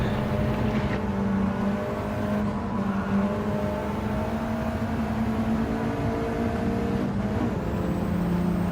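A Mazda RX-7 in Gran Turismo 7 drones along at a steady engine note, shifting pitch slightly as revs rise and fall, moderately loud and continuous with no talk.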